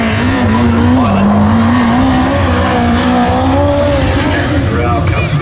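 A midget race car laps a speedway oval during qualifying, its engine note rising and falling in a loud, sustained whine and roar under continuous commentary.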